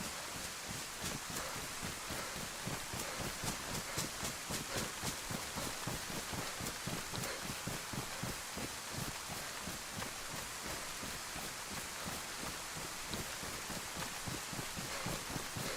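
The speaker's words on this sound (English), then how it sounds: "All I hear is rain." Steady rain falls in a video game scene, a dense even patter with fine rhythmic drops, constant and moderately loud with no talk.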